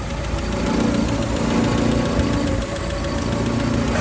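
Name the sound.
Land Rover bonnet vibrating from idling engine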